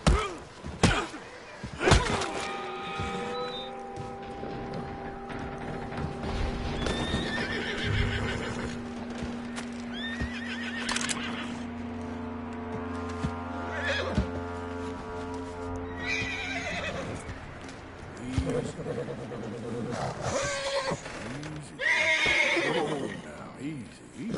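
Horse neighing and whinnying repeatedly, with clip-clopping hooves and occasional thuds, in the Red Dead Redemption 2 video game; people talk throughout, and the calls sit near the voices at moderate loudness.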